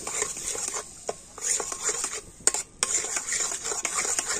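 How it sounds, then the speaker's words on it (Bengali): A spoon stirs milk powder into lukewarm water in a bowl, giving a close, steady scraping swirl with irregular sharp clinks against the bowl. No one speaks. "তো গুঁড়ো দুধটা জলের সাথে ভালো করে গুলে নেব।"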